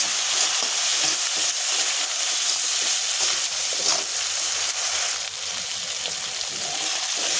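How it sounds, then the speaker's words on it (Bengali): Spice masala is stirred in a hot pan after water used to rinse the spices is poured in, for a pangas and tengra fish curry; a loud, continuous sizzle and hiss with scraping stir strokes runs throughout. "এবার আমি এখানে দিয়ে দেবো মশলা ধোয়া জল। জলটা দিয়ে আবার একটু নাড়াচাড়া করে নেব।"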